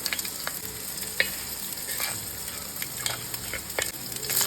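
Urad dal frying in hot oil with mustard seeds while being stirred, a continuous close sizzle with scattered crackles and the scrape of a spoon against the pan.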